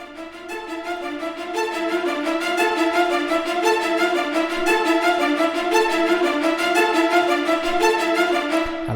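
A synth string patch plays rapid short staccato notes in a steady repeating rhythm, bright and sustained in loudness, with no voices.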